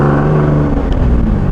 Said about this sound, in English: Look at that, there's a car coming.